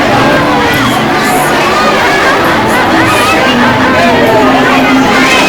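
Dense crowd of devotees waiting in line at the Chotila Chamunda Mataji temple, a loud continuous babble of many voices with children's shouts rising over it, close and unbroken throughout.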